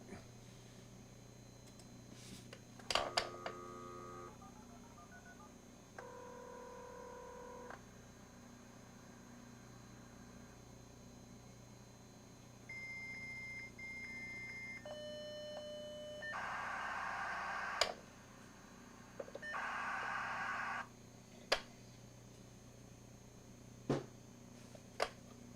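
Dial-up modem connecting: a quiet line hum, then dial tones, steady beeps and shifting pitched tones building to hissing bursts of handshake noise, followed by a few sharp clicks near the end.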